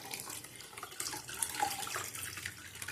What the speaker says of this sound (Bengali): ঠান্ডা জল দিয়ে ধুয়ে নিলাম।